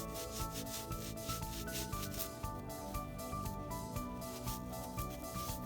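A brush scrubs a wet, soapy plush Beanie Boo toy with a continuous close-up rasping rub in quick repeated strokes, with no talking.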